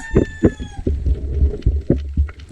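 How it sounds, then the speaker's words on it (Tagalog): A chicken clucks and squawks repeatedly at close range, loud choppy calls in an uneven rhythm, with a short crowing tone at the start. "Babatuhin ko itong manok na ito."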